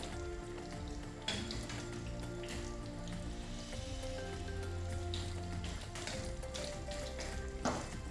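Egg-coated lamb chops frying in a pan give off a steady, dense crackle and sizzle with scattered pops, close and continuous, with no voices.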